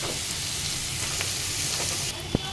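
A steady, fairly loud sizzle of onions frying in a pan, a dense continuous hiss with one sharp tap near the end and no voices.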